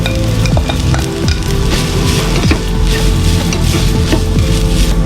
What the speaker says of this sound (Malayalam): അതിലേക്ക് നമുക്ക് ഒരു 1/2 മുറി തേങ്ങ ചെറുകിയിട്ട് കൊടുക്കുകയാണ്. നമുക്ക് ഇതിനൊന്ന് വറുത്തെടുക്കണം.